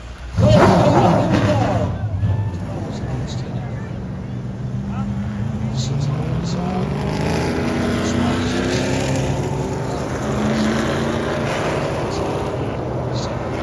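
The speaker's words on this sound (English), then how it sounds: "Drivers, start your engines!" Pro late model race car engines fire up with a sudden roar at Montgomery, then settle into a loud, sustained droning rumble of several motors idling and revving together.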